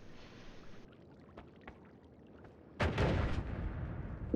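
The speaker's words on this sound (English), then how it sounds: "Why is there another explosion there?" An explosion goes off in the pixel-physics game Noita. A few soft pops and thuds come first, then a sudden loud, crackling burst about two-thirds of the way in that rumbles on to the end, with no talking.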